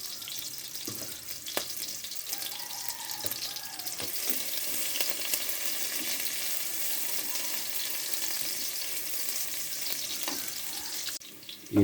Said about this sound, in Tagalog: Ito na gigisahin.